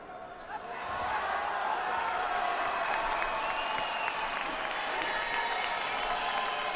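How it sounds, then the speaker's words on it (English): Crowd in a judo arena at a Grand Slam tournament in Ekaterinburg cheering and applauding for a throw on an adjoining mat, a steady broad roar after a brief quieter start, no talk over it. "The cheer that you can hear is from"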